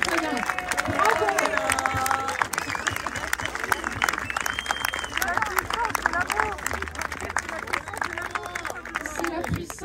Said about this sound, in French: Vous pouvez vous applaudir vraiment très fort.